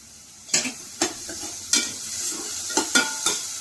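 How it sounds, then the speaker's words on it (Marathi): Chopped onion frying in a pan, sizzling steadily while a spoon stirs and scrapes it in several sharp, close strokes spaced through the clip. "कांदा आपला फ्राय होतोय त्याच्यामध्ये टाकायचं आपल्याला थोडं मीठ"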